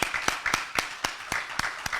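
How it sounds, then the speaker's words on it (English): A panel at a high-level conference gets a round of applause, with sharp individual claps standing out over a dense, steady crowd patter for the whole two seconds. "Can we give our panel a round of applause?"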